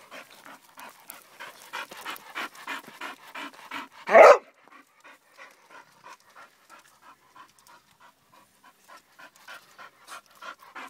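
A French bulldog pants in quick, steady huffs close by, with one brief louder burst of noise partway through.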